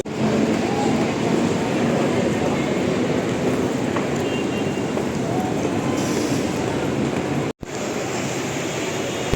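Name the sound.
local train departing Goregaon station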